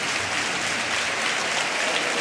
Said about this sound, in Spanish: Sabes que en la maestranza se sabe aplaudir. Mira, aplaudir. Una ovación magnífica.